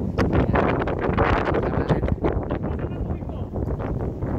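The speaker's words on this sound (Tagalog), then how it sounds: "malakas nga hangin" Strong wind buffets the microphone at a sea cave on the coast of Coloane, Macau, a loud continuous rumbling roar with gusty fluctuations and rustling, while voices speak faintly underneath.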